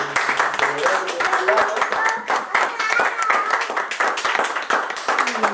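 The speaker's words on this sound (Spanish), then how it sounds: "Un aplauso para Edward." An audience claps for a student's presentation in a class setting, a steady burst of applause lasting several seconds with some voices mixed in.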